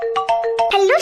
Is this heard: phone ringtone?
yes